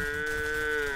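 A cow moos in a video game, one long drawn-out, steady low call that holds for about a second, loud and close, with no talk over it.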